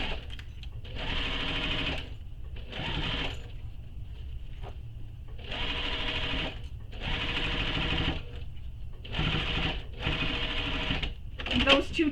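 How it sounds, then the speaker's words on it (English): A domestic sewing machine stitches through the thick, bulky layers of a wallet in six or seven bursts of a rapid mechanical whir, each separated by short pauses. "if you find that your machine has a hard time with the bulk"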